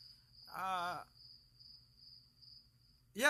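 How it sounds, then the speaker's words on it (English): A thin, steady high-pitched cricket trill runs throughout, faint and constant, with brief voice-like sounds interrupting at the start and end. "all you hear is crickets"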